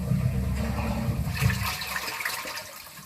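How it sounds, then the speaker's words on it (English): A sump pump switching on in a basement basin fitted with a new cover lid, pushing water with a steady low churning rush that stays loud and even throughout, with no talk over it. "pump should just kick on right about now"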